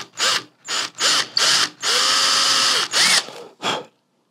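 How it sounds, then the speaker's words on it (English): A power drill whirs in short bursts while drilling straight into wood for a guitar inlay, then runs steadily for about a second before more brief pulses, loud and close. "it's always crucial that you're drilling straight"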